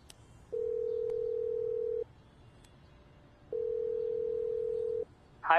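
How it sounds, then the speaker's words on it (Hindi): Two long steady telephone ringback tones, each about a second and a half, separated by a pause of equal length, heard alone and clearly on a phone call with a brief higher sound at the very end. "मनीष से बात करने के बाद नम्रता ने एक और कॉल किया था 1:55 पे रोहित को।"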